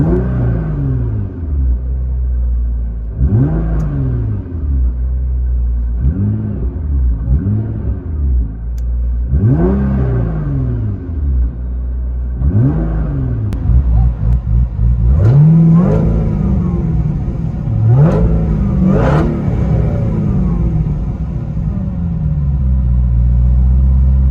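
A car engine in sport mode revs sharply again and again in short bursts, each rising to a loud snarl and falling back, with the blips coming faster toward the end.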